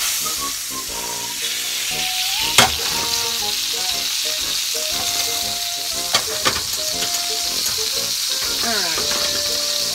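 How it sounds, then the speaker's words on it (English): Eggs sizzle loudly and continuously in a hot pan, with a constant hiss, occasional sharp clinks of a utensil and a voice talking over it. "Not the best at frying eggs."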